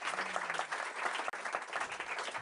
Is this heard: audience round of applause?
yes